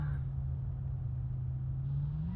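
A Mercedes E63S Brabus 700 in the BeamNG Drive racing game gives a steady low engine rumble at the start of a race, its pitch rising slightly near the end, quiet and without speech.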